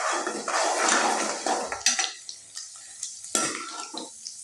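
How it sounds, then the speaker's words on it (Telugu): Cashews frying in a pan for rava idli, with stirring scrapes and metal-on-pan clinks over a soft sizzle, busier at first then settling into scattered knocks; no talk. "మంచిగా గోల్డెన్ బ్రౌన్ కలర్ వచ్చేంత వరకు ఫ్రై చేసుకోవాలి."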